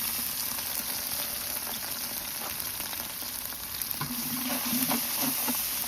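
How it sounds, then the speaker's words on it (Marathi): Garlic paste frying in oil over tempered cumin, a soft continuous sizzle with faint stirring, slightly louder and crackling toward the end, no voices. "जिरे चांगले तडून दिल्यानंतर त्यामध्ये लसूण पेस्ट टाकायची।"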